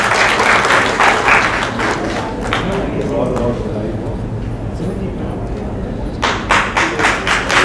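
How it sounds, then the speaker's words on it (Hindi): An audience at the READ India Summit 2024 breaks into loud clapping at the start, which fades as a voice talks through the middle, then returns as a fresh burst near the end. "जाफराबाद थोड़ी सी तालियां तो बजा दीजिए।"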